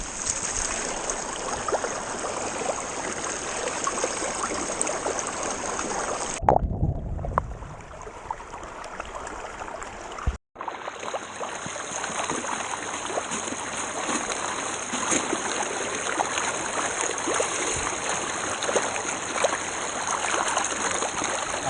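River gravel and water wash steadily through a gold sluice as a continuous rushing, trickling flow, briefly interrupted once before the flow resumes at the same level.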